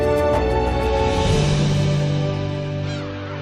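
Black-tailed gulls calling over the sea at a gull colony on a southern Korean island, a loud dense wash of overlapping nasal, mewing cries close by, continuous throughout.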